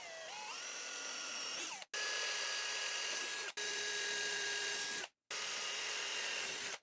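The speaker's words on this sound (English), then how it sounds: "So I'm taking care of the pre-drilling." A power drill whines steadily through several bursts, each a second or two long, separated by brief pauses as it stops and restarts.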